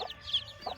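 Several fighter-breed chicks clucking and cheeping close by in a short, lively burst of overlapping high calls with no talking.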